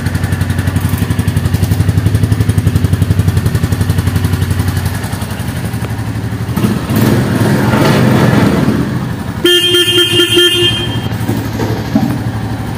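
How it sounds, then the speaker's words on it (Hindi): A Royal Enfield Bullet motorcycle idles with a steady, loud, pulsing exhaust thump. Midway the engine note rises and roughens, then a bright electronic beeping tone cuts in over the running engine near the end. "इसकी साइलेंसर साउंड सुन सकते हैं।"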